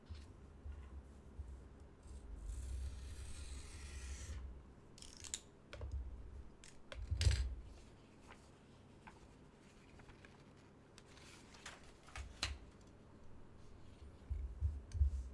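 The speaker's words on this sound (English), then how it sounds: "We will just be using half of this A4 paper, so we'll have to cut along this. I'll be using a cutter here." A utility cutter slices along a sheet of A4 paper, giving soft scraping strokes and scattered sharp clicks and taps, quiet and close, with pauses between the cuts.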